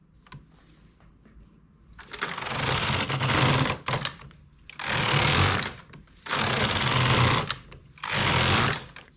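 A domestic knitting machine carriage is drawn back and forth across the needle bed with a part button engaged, making four loud, rasping passes of about one and a half seconds each, separated by short pauses.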